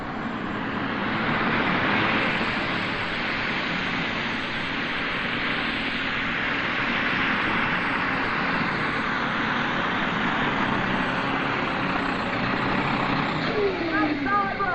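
Superstock tractor engine at an NTPA 7500 lb tractor pull in Urbana, Ohio, 1995, roaring loud and steady with a heavy, unbroken drone for the whole stretch as an announcer talks over it.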